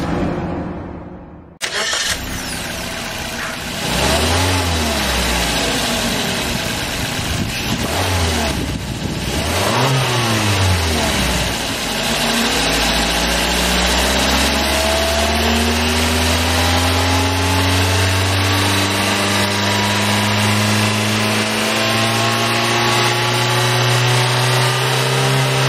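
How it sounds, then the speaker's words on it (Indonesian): A 1500cc four-cylinder Suzuki K15B VVT engine in a 2022 Suzuki XL7 Alpha starts up, then revs up and down in several throttle blips before settling into a steady idle, close and loud with no talking. "Dia masih menggunakan mesin K15B yang sama dengan R3, 1500cc, 4 silinder dengan variable valve timing alias VVT"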